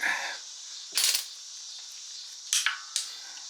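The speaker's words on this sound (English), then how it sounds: "Snip off a little excess here." Cutter snips trimming excess during the motor assembly of an AWD wagon: a few small, sharp clicks spaced apart, over a steady background hiss and hum.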